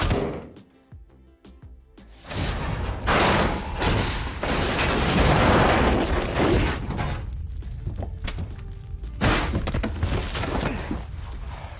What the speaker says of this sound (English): if you can survive an explosion from inside of a refrigerator